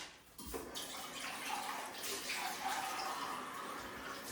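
Water runs steadily from a shower head in a home bathroom, a close, continuous spray after a brief quiet start, with no talking.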